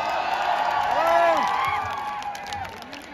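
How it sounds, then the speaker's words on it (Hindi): A crowd at a live music show claps and cheers with scattered whoops, a busy, fairly loud wash of applause that swells and then slowly fades, with voices mixed in. "बस तालियां बजा देना मेरे लिए।"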